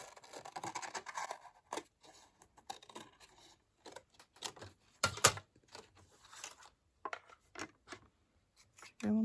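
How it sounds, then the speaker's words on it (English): Scissors snip through paper to cut out small flower tops for a craft piece, giving a run of short, close, dry cuts and rustles with pauses between them. "So I'm just gonna cut all the tops"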